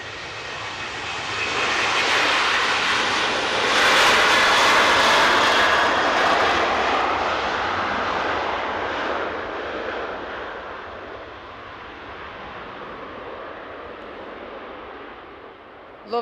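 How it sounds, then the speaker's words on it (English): An Aer Lingus Airbus A330 airliner arriving at Manchester Airport, a loud, broad jet engine roar that swells early, holds, then slowly fades and softens toward the end. "Aer Lingus A330 just arrived"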